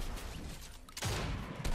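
Gunfire in a battle royale video game: a broadband burst of shots at mid-distance, dense and rapid like a fusillade, sounding partway through and continuing to the end of the short clip, with no talk.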